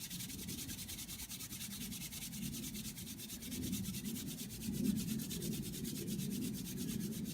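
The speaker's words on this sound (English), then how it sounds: "warm this up a little, I think, by rubbing it in my hands" A Veet wax strip rubbed briskly between the hands to warm it, a soft steady rhythmic papery swishing up close and quiet, with no talk.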